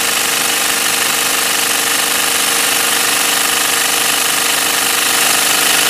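A PM Research model dynamo spins steadily at about 1500 RPM, giving a loud, continuous mechanical whir and rattling hum that holds constant throughout, with no talking.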